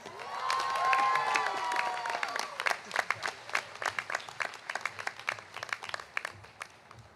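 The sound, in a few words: commencement audience applauding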